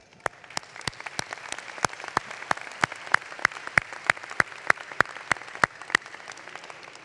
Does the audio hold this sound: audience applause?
yes